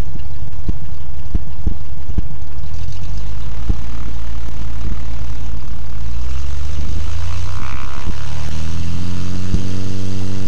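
A light sport aircraft's propeller engine drones loudly and close throughout a takeoff, with rhythmic thumps early on and a rising pitch as power builds toward the end.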